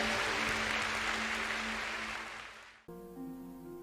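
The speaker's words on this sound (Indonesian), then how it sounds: "Berikan tepuk tangan buat Tuhan kita yang baik." Congregation applause during a worship service, a dense, steady wash of clapping that fades out after about three seconds, followed by sustained keyboard or organ tones.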